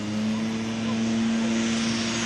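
An ultralight aircraft comes in on the runway at Cambaie, Réunion, under a sunset sky, its engine giving a steady, fairly loud droning hum that holds without a break from start to finish.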